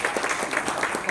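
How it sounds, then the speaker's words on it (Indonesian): Audience applause at a business leaders' sharing event, a steady wash of clapping filling the short moment at moderate loudness. "Tepuk tangan dulu dong buat Pak Johan"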